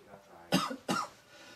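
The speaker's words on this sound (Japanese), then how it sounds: "そのままちょっと咳払い続けてみてください。" Two sharp throat clearings, close and loud, about a third of a second apart, from a patient during an overnight sleep study for apnea in a quiet room.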